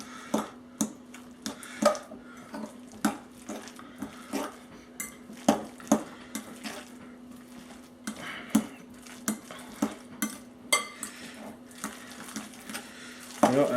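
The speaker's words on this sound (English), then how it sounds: "I'm also adding some of this Parmesan cheese. Let's mix that in" A spoon working Parmesan cheese into a lasagna filling in a bowl, with regular clinking scrapes against the dish repeating in a steady rhythm, close and moderately loud, with no speech.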